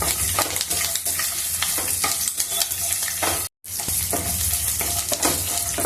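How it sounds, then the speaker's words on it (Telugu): Curry leaves and slit green chillies fry in a pan for curry-leaf pulihora, a steady loud sizzle with frequent scraping stir strokes and a brief dropout partway through. "ఇప్పుడు కరివేపాకు కూడా వేసేసుకున్నాము పచ్చిమిర్చి కూడా ఇట్లా చిన్న చిన్న చిలికలుగా చేసుకొని వేసి వేయించుకున్నాము"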